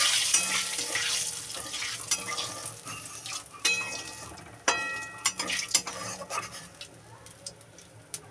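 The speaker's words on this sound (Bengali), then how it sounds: "জিরে আর তেজপাতাটা ভালো করে ভাজা ভাজা হবে," Green cumin seeds and bay leaves fry in hot oil with a steady crackling sizzle, broken by sharper pops and the occasional scrape of stirring. No one speaks.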